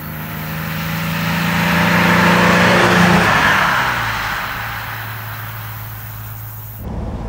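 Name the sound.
1965 Mercedes 300 SE Cabriolet engine while driving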